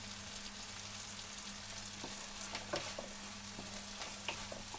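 Pork browning in a pan for a bitter gourd dish is stirred with a steady broadband sizzle, scraping utensil strokes clicking every second or so over a low continuous hum, with no talk.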